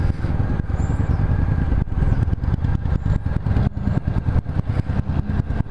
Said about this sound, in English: And I love the exhaust pop on this thing.